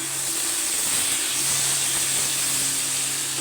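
Paneer frying in oil in a home kitchen, a soft, even, continuous hiss with a faint steady hum beneath it and no voices.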